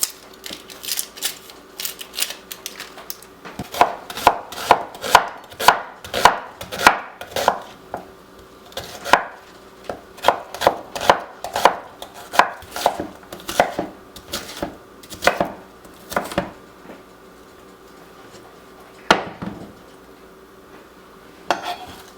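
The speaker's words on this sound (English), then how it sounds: "And then just doing like a rough chop on these guys as well." A knife rough-chopping onions on a cutting board for homemade chili, long stretches of sharp, irregular taps in quick bursts with brief pauses, close and clear, with no talking.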